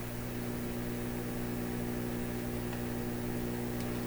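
A sweep generator signal picked up by an FM radio in a console stereo, heard as a steady, faint electronic hum with layered buzzing tones over a wash of static hiss.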